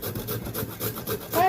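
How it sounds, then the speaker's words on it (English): Carrots rubbed on the coarse side of a box grater in a home kitchen, a quick run of rasping strokes at moderate loudness and close by. "So I will be grating this carrots on the fat side."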